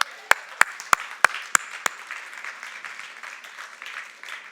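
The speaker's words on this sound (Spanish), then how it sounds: "Denle un aplauso, Señor." A church congregation at a Spanish-language worship service breaks into applause, opening with several sharp, distinct claps before settling into a steady, moderate wash of clapping.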